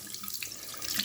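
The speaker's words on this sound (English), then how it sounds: "as you can see, the water's coming out." Water runs from an old-fashioned pump faucet at normal flow, a steady close splashing stream with no talk over it.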